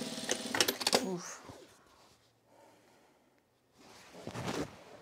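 A sewing machine stitches denim jeans in short bursts of rapid mechanical clatter, near and moderately loud, with a quiet pause in between and brief soft talk.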